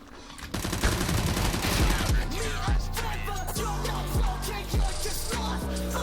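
Loud video-game gunfire in rapid bursts of shots, heavy and continuous with booming impacts, and nobody talking over it.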